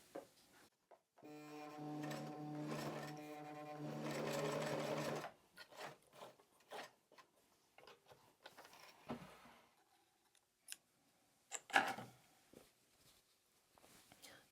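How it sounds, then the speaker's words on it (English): Sewing machine stitching the seam of a fabric bowl cozy, a steady close mechanical whir in two bursts of a few seconds each, followed by quieter handling clicks and rustles of fabric and thread. "we're just going to sew in"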